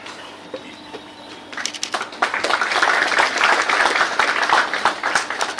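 Applause for a student at a news bulletin event in Bihar begins after a quiet moment and swells into steady, dense clapping from a crowd that keeps going to the end.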